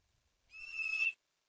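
A single horse whinny plays from a phone's augmented reality app, a short bright neigh of about half a second, clear against silence.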